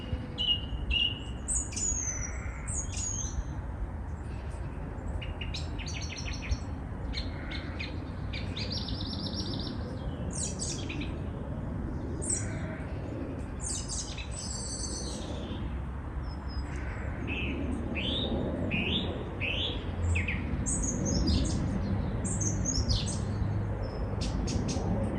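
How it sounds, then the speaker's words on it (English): A song thrush sings from trees in Kent, its varied, repeated phrases ringing out steadily over continuous low background rumble, with other birdsong mixed in. "this song thrush has been singing all day long"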